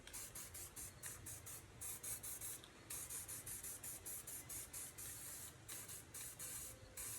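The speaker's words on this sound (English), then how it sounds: "So just going to spray it lightly like this." Short, close hissing bursts of spray paint applied lightly onto a stencil repeat in a quick pulsing rhythm, each puff brief and bright, with tiny gaps between them.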